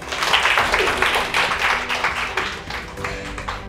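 Clapping from a class audience at a makeup business marketing session fills the room, a dense, fairly close burst of hand claps that gradually thins toward the end.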